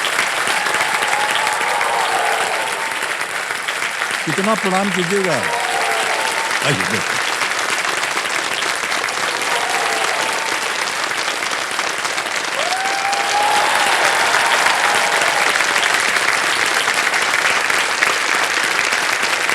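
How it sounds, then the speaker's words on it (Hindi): Studio audience applause on a Hindi television quiz show set (KBC), sustained dense clapping throughout while a host's voice speaks over it at moments. "तालियां बजती रहें।"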